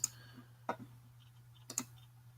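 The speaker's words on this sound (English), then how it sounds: "you can just double click on it" A computer mouse clicking, three or four sharp, faint taps spaced apart over a quiet background hum, with a quick paired double-click near the end.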